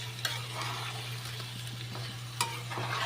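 Cumin, ginger and spices fry in a pan with a steady low sizzle and a constant hum, broken by a few sharp scraping clicks from stirring. No one speaks.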